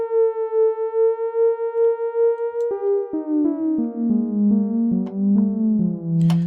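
Lo-fi cassette-style keys patch built in SynthMaster 2 with detuned layers spread across the stereo field: a wavering held tone that slides down into a soft run of falling notes, clean and alone.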